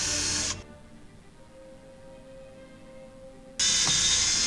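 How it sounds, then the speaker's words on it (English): Compressed air blasts debris off a Husqvarna T540 chainsaw in two loud bursts of hiss, one at the start and one at the end, separated by a quieter stretch of low background hum. "we're going to blow a little bit of debris out of the way"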